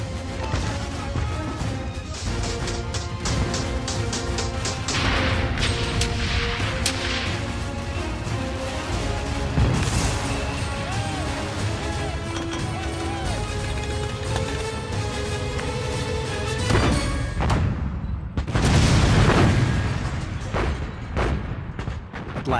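Artillery shells and machine gun fire rip across a World War II battlefield at Sugar Loaf Hill, Okinawa, a dense, continuous barrage of sharp cracks, rapid bursts and heavy booms, with louder blasts near the end.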